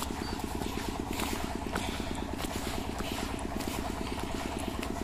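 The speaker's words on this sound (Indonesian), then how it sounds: "terdengar mesin pompa air" A water pump engine drones steadily beside rice fields, a close, constant mechanical chug with a fast regular pulse that never lets up.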